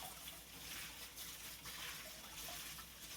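Tap water running over spinach being rinsed, a continuous faint splashing trickle with small shifts as the leaves are moved under the stream.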